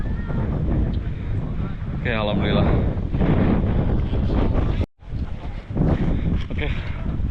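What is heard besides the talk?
strong wind on Mount Merbabu hiking trail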